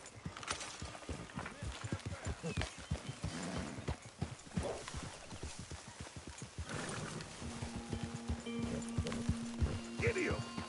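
Horse hooves clip-clopping in a video game set in an open outdoor area, a dense rapid run of close hoofbeats with occasional whinnies, while people talk over it.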